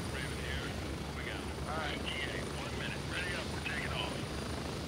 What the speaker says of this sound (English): I got a helicopter coming in.